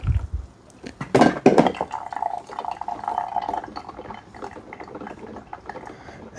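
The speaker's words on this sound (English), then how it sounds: "Let's see how the craft pours. Yeah, pours really good." Coffee poured from the glass carafe of a Keurig K-Duo coffee maker into a cup: a clunk as the carafe lifts, then a steady liquid stream that gurgles and trickles for a few seconds before tapering off, close and alone.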